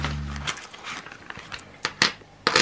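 Loose coins are handled and sorted by hand while divided into budget envelopes, giving a few sharp metallic clinks and jingles in short bursts, close up, with a low hum early on.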